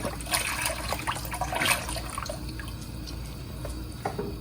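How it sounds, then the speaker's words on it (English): Chicken stock poured from a whole container into a hot, sizzling pan of cauliflower, a steady close liquid splash and trickle with faint dripping, loudest early and easing off, no talking. "I'm going to pour in chicken stock,"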